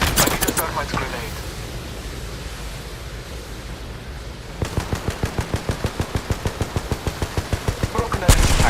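Gunfire in the video game Apex Legends, opening with loud shots, followed by a noisy lull and then a long run of rapid, evenly spaced automatic bursts close up.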